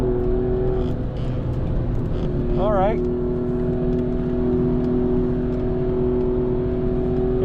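An Alfa Romeo Giulia Quadrifoglio runs on a race track at low warm-up speed, giving a steady engine drone and road rumble throughout, with someone talking briefly over it.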